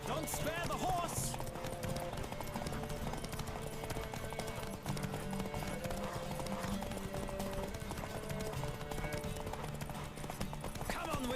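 A horse gallops in The Witcher 3 with rapid, rhythmic clip-clop hoofbeats running continuously, mixed with game sounds and spoken lines throughout.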